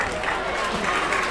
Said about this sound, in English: Scrapper crowd applauds them